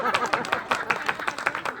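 An elderly woman claps her hands during a devotional kirtan gathering, giving quick, steady, closely spaced claps at fairly even volume with a faint murmur behind them.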